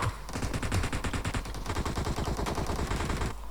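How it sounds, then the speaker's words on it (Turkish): Sustained bursts of automatic fire from PUBG Mobile rattle loudly and continuously for several seconds, close and dense with no talking. "Şuraya bak her yerden mermi lan"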